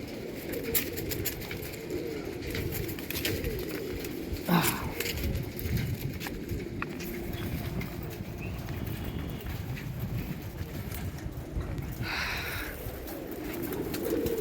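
Pigeons coo on a rooftop, their soft calls mixed with wing flutters and scattered taps over a constant background hum.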